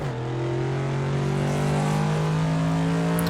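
A Ford Mustang GT engine in the Assetto Corsa racing game revs steadily and loudly, its pitch climbing smoothly toward the top of the range in one continuous sustained drone with no voices.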